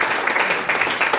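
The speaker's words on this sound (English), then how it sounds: "I think we should give him a applause" A brief burst of audience applause at a talk on children's health and environmental awareness, a quick dense patter of clapping heard close and fairly loud.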